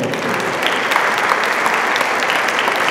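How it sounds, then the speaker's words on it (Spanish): Steady applause from guests at a neighborhood leaders' dinner, a dense, continuous clapping wash at even loudness for the whole stretch. "Aplauso."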